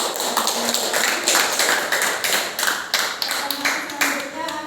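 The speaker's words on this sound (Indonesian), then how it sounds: "Jawaban benar kita beri aplaus" Applause in a classroom learning session rewarding a correct answer, a steady patter of many hands clapping together, fairly loud and sustained, with faint voices underneath.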